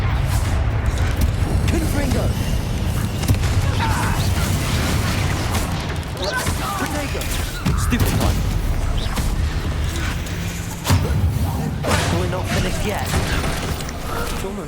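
Confringo blasting spells from Hogwarts Legacy fire off as a dense run of booming explosions and crackling impacts, loud and continuous, with a voice shouting spell names over the top.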